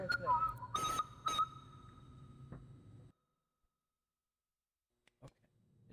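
A person whistles a short wavering tune for about three seconds, fairly close and clear over faint background noise, then stops abruptly into near silence broken by a couple of small knocks.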